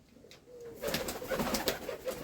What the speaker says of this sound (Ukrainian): Голуб'ята малі.